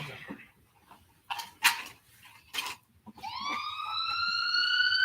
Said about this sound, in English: Do you guys hear sirens? Like the ambulance?